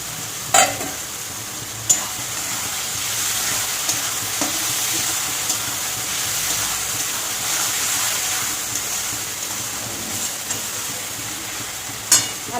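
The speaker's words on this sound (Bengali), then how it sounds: "ভালো করে একটু কষে নেবো আলুটা দিয়ে" Fried potatoes are stirred in a hot pan, giving a steady, loud sizzle that runs throughout, with occasional sharp scrapes of the spatula against the pan.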